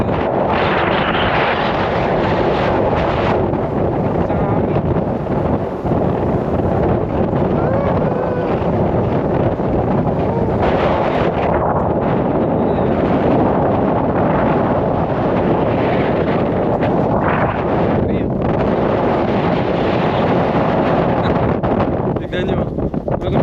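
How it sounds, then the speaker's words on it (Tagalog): Strong desert wind in Dubai buffets the microphone in a loud, continuous roar with gusting swells, lasting throughout, while a person talks intermittently underneath. "Sakit sa katawan ng hangin."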